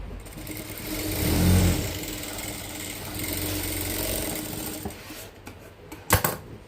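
A sewing machine stitches a double-folded fabric seam while a pocket is fitted into trousers. Its motor runs close and steady with a whirring hum that swells and eases, ending in a few sharp mechanical clicks.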